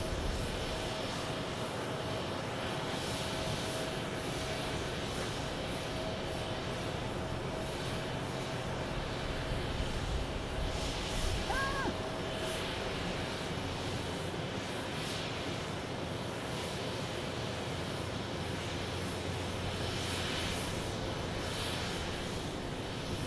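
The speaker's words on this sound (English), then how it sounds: "As I get some Jet Blast. Yeah, Jet Blast on me." Jet engines roar continuously as aircraft blast past at Redmond airport in Oregon, a loud, steady, broadband rush lasting throughout with slight swells.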